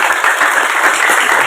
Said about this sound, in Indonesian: Tepuk tangan dulu begitu.